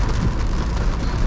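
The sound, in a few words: rain falling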